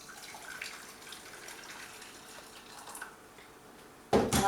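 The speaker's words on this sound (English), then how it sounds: "I've put about 1 centimetre of boiling water in" Boiling water is poured into a saucepan, beginning as a faint trickle and turning into a sudden loud, close splash of pouring at the end.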